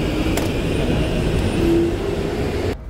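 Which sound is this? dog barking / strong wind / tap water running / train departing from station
train departing from station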